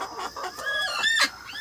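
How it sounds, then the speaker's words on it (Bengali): Domestic desi hens cluck and chatter near one another in a backyard coop, a few rising, squawky calls in quick succession with no one speaking. "এখানে সব রকম মুরগি আছে, আর অনেক মুরগি আমার বাইরেও আছে"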